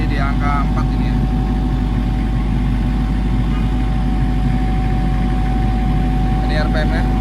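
A Denyo 30 diesel generator set runs steadily under a test load at 50 Hz, giving a loud, constant low engine drone with a fixed electrical hum throughout and brief faint clatter near the start and end.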